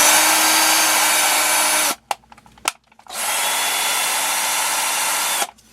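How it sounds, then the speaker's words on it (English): A small drill bores out the plastic upright mount of an RC buggy's front suspension with a 3mm bit, whining steadily up close, dropping out briefly with a few clicks, then running again for a second sustained pass. "We'll begin by drilling out the mount for the upright."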